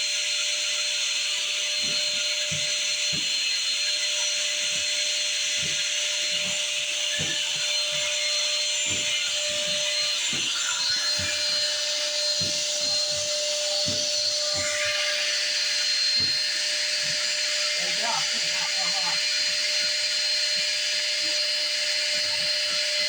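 Shop vac vacuuming out a dryer vent, a loud steady whine and rushing roar held for the whole stretch, with irregular clunks and rattles of the hose and debris underneath.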